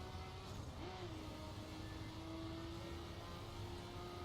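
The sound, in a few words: fast car driving on dirt road in The Crew video game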